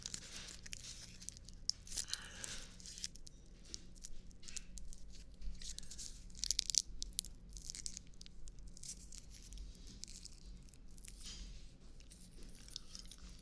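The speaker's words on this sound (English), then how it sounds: "I guess I can play with the wrapper a bit more if you like it much." Soft crinkling and crackling of a plastic cough drop wrapper, close and quiet, with irregular rustles and small crunchy bursts.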